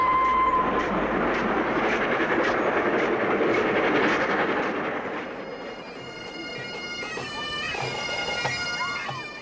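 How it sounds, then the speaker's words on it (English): The Flying Scotsman steam locomotive rumbles along the rails with clattering wheels, loud and steady at first, then easing off as squeaky metallic tones rise. "the nation's favourite steam engine is coming home to the National Railway Museum"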